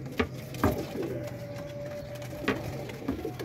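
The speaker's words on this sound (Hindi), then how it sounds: "कैसा VIP कबूतर है यार" Pigeons cooing faintly among a flock of game-class VIP pigeons, soft low coos repeating under steady background hum with a few brief sharper sounds.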